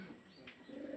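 Mundian pigeons cooing softly in a loft, a low murmuring coo running through the whole second with a brief higher chirp near the middle.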